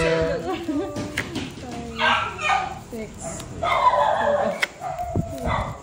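A dog barks several times in short bursts amid lively chatter and laughter from people nearby.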